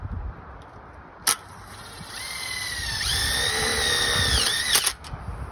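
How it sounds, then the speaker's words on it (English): A power drill drives a self-tapping screw into a metal carport channel, its motor whining up and holding a steady pitch for a few seconds before stopping, close by and with no speech. "we'll start by putting a self-tapper here and then we'll bend it down"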